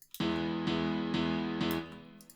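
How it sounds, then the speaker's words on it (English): A grand piano strikes four sustained chords in an even rhythm, each ringing fully before the next, quiet and clean with nothing else playing, in a melodic house production in FL Studio. "the other one is this grand piano."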